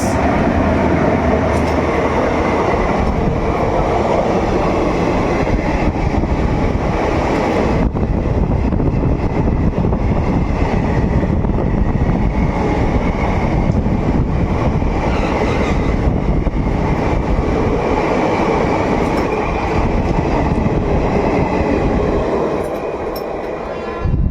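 The Ganadevta Express rolls along Indian railway track, with a loud, steady rumble of wheels on rails and carriage noise that fills the whole stretch without letup.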